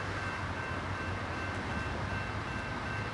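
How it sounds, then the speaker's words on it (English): Norfolk Southern northbound mixed freight train rolling through Mableton, Georgia, a steady loud rumble of wheels and railcars with a faint high tonal ring, continuous and close, with no voices. "All right, dude. Train's here."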